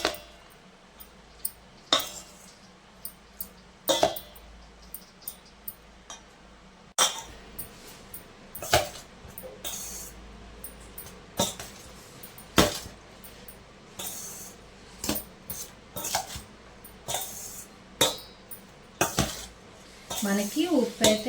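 A metal ladle scrapes and clanks against a pot while rice is stirred and mixed, irregular sharp clinks and knocks spaced a second or two apart over a quiet kitchen background.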